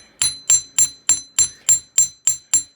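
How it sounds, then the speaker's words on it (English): Nine evenly spaced, sharp metallic hammer strikes ring out as a wire end is flattened on a metal block for a paddle earring, each hit bright and close with a short decaying ring, no talking. "I'm just going to take my metal block here and I'm going to hammer the end out"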